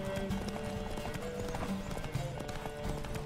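Horse hoofbeats from The Witcher 3: Wild Hunt, a rapid galloping clip-clop of hooves running continuously over a dense game soundscape with a hint of whinnying, fairly loud and close.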